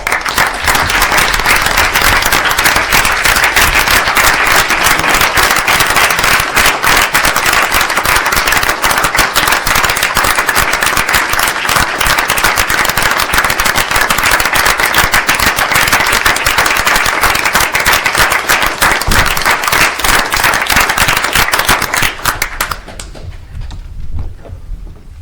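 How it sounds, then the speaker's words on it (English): Dense, loud applause from an audience at an Ansonia, Connecticut Board of Aldermen meeting honoring a returning serviceman, sustained for over twenty seconds before abruptly fading. "Let's have him stand and give him a big round of applause."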